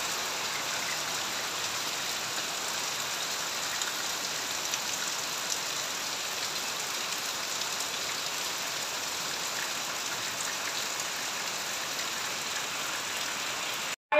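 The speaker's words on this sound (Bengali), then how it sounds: "বাইরে প্রচুর প্রচুর বৃষ্টি হচ্ছে, এত বৃষ্টি হচ্ছে বলার না।" Heavy rain pours steadily outdoors, a dense, continuous hiss of drops on surfaces that holds at an even level from start to finish with no pauses or talk.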